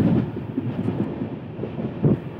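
A train runs fast along the rails on the Bangalore to Mysore line, a continuous low rumble with a few heavier thumps, steady and close, with no voices.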